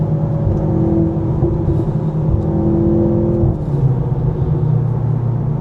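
A Mercedes-AMG C43 four-cylinder engine drones steadily under acceleration during a night drive, heard from inside the cabin, then the pitch drops away as it shifts, and the tone continues lower with a constant road rumble underneath.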